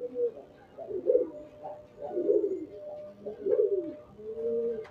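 Pigeons in a bird market in Beldanga, Murshidabad, including a golden male and a yellow-eyed Giribaz female, give soft, throaty coos in three or four close rolling bursts with brief pauses between them.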